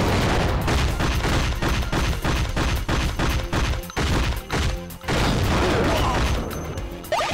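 Rapid bursts of gunfire from CT Special Forces, a PlayStation 1 shooter, fill the stretch with dense, repeated loud shots in a steady rhythm, broken by a brief pause before more firing.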